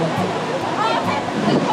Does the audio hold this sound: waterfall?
yes